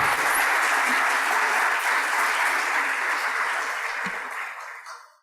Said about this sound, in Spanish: Un aplauso para el señor Esteban Iriarte.